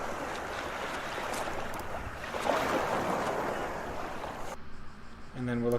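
Sea waves in The Last Door roll and wash in a steady, broad surf hiss for several seconds, then cut off suddenly and give way to a brief tonal sound at the end.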